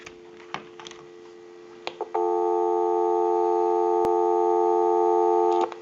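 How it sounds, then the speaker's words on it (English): A rotary desk telephone crackles with a few faint clicks, then a loud steady dial tone comes on and holds for several seconds, broken once by a sharp click, before cutting off. "Go ahead and give you some dial tone."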